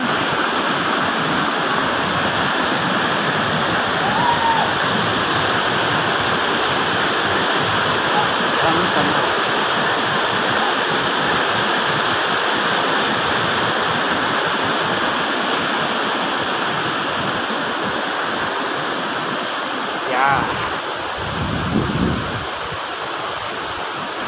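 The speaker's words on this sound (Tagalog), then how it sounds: "maganda, guys, dito sa waterfalls ng Baluarte, Salcedo" Baluarte Falls in Salcedo, Ilocos Sur, pours in a constant loud rushing hiss of falling water, with a brief voice and a few close handling noises breaking in near the end.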